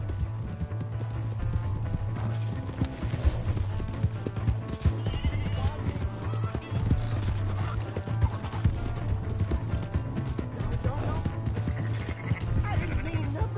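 Horse hooves clip-clopping in the Red Dead Redemption 2 video game, a steady run of hoofbeats mixed with game sounds and a low hum, with voices talking over it.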